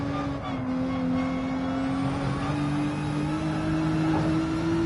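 A race car drifting in Gran Turismo 7 holds a steady high engine drone with slowly shifting pitch, a loud, unbroken whine without talk.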